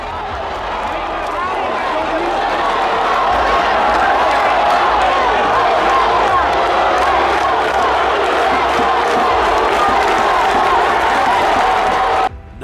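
A loud basketball crowd in the Jackson home gym roars and jeers steadily after McKinley is granted a timeout, a dense continuous wall of voices that drops off abruptly at the end.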